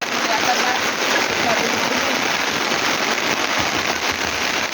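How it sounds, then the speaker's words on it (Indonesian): Steady, dense rain pours on a foggy mountain trail on Gunung Prau, a loud, continuous hiss of drops filling the whole stretch without pause. "Nih hujan lagi nih."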